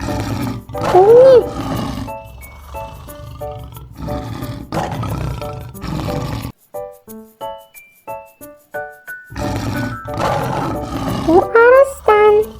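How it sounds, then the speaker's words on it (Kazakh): A lion roars loudly several times in deep, rumbling bursts, spaced between spoken words in a children's animal-naming lesson with soft musical tones; the roars come near and strong, alternating with speech throughout. "Бұл арыстан."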